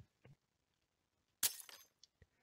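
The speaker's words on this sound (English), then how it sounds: "The stained glass window is shattered." In the horror game The Witch's House, a stained glass window breaks with a sharp, bright crash followed by tinkling shards. A few soft clicks come before it and a couple of small clinks after, in an otherwise quiet scene.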